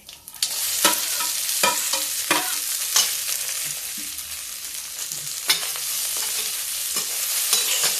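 Peanuts, beans, potato and carrot being stirred in a pan, a steady close frying sizzle broken by repeated scraping strokes of the spoon, no talking.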